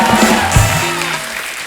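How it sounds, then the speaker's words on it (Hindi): Studio audience applause on a Hindi comedy talk show as guests Bassi and Ranbir are welcomed, a dense continuous wash of clapping throughout, fairly loud and steady with no speech over it. "जोरदार तालियां बस्सी और रणबीर भाई के लिए"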